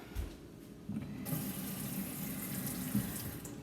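Tap water runs steadily into a sink as fresh marjoram sprigs are rinsed under it, a continuous close splashing flow with faint handling noises.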